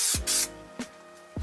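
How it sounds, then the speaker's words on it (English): Three short hissing bursts of high-temperature spray adhesive from an aerosol can, close by, applied in a light coat while fitting sound deadening in a camper van; the first two in quick succession and the third after a pause. "I'm just going to use a bit of the high temp spray adhesive"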